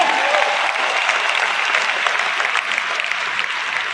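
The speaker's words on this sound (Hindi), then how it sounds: "अब तक की सबसे जोरदार तालियां हम सभी के गुरु माँ गुरुजी श्रीपाल महिपाल सर के लिए जोरदार तालियां हो जाए" A large crowd at an indoor gathering claps loudly for their guru, a dense, sustained wash of applause that stays strong throughout.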